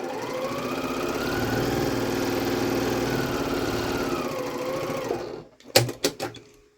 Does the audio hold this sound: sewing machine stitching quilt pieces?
yes